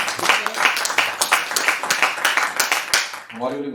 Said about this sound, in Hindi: जोरदार तालियां बजाकर भाई विशेष